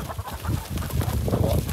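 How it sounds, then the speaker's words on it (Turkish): Chickens on a dairy farm cluck and murmur continuously close by, a busy, overlapping flock chatter with no clear pauses. "Burada hobi olarak tavuklarımız var tabii bunlar."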